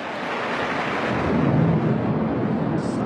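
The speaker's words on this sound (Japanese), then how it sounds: "大雨が、一旦ちょこっと収まったと思ったら、今度は雷の音がね、聞こえてきた" Thunder rolls during a heavy rainstorm over a baseball game, a loud low rumble that swells midway through over a steady wash of rain and wind.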